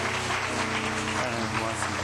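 Church congregation clapping in welcome during a worship service, a continuous wash of applause with a voice audible underneath.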